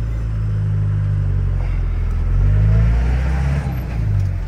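A lowered 1997 Ford F-150 XLT Lightning pickup pulls away with a deep, steady engine rumble that swells briefly in the middle as it accelerates, loud and close throughout with no talking.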